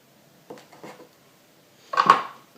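A knife cuts through a coconut log on a board: two soft, muffled strokes followed by a louder, sharper cut near the end, close by and otherwise quiet.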